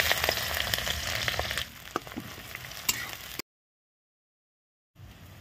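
Onions hitting hot oil in a kadai for mutton curry, a steady loud sizzle and crackle with a few pops, dropping off into silence before a quieter frying resumes; no talk.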